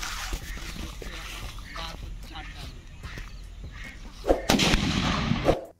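Over outdoor background noise and people talking, a homemade bottle firecracker goes off near the end with sharp, crackling bursts.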